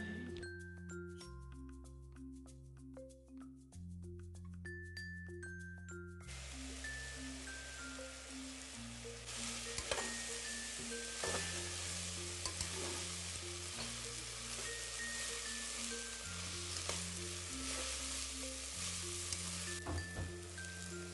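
Turmeric, garam masala and red masala sizzle in a pan of frying spice paste while being stirred, a soft continuous crackle under a louder steady melody of background music, with no speech.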